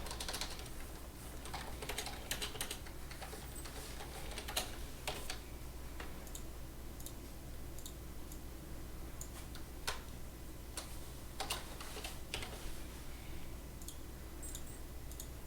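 A computer keyboard being typed on to add a note card question, soft rapid key clicks in uneven bursts, fairly faint over a steady low hum.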